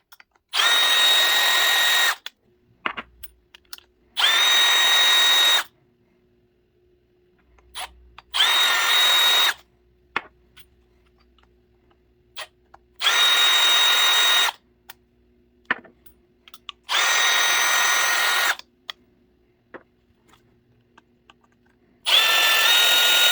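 A power case trimmer cuts the necks of 6.8 Western rifle brass cases in six loud steady whirring bursts of about two seconds each, with brief clinks and handling noises between cuts.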